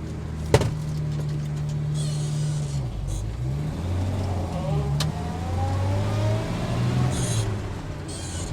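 A 1950 Studebaker R-Series truck with no power brakes drives along, its steady mid-range engine hum running throughout with a brief sharp knock near the start and faint rattles over the road noise.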